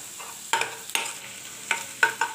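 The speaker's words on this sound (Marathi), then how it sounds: "मोहरी तडतडली" Mustard seeds splutter in hot oil while cooking sukat (dried fish), giving five or six sharp, close popping bursts over a low background sizzle, with no voices.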